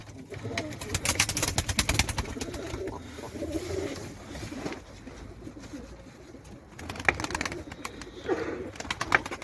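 Pigeons coo softly in repeated low calls amid a busy, rustling background with occasional sharp clicks.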